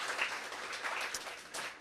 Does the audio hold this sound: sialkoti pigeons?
no